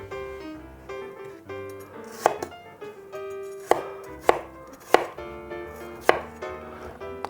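A knife dicing apple into centimetre cubes on a board, sharp irregular knocks of the blade hitting wood amid quieter slicing and shuffling, close up with no talk.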